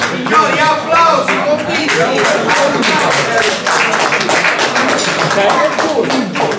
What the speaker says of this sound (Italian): Signori, applausi